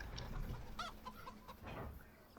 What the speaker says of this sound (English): There's our huge amount of chickens